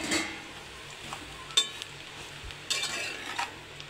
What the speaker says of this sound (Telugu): ఇలా వేగగానే ఇందులో బ్రెడ్ పీసెస్ను వేసుకోవాలి.